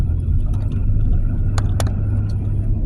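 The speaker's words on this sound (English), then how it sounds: "It's a gravel road, gravel dirt road that most people don't know about." Car rolling along a gravel dirt road, a steady low rumble with faint crunching and a couple of brief sharp clicks, heard from inside the vehicle.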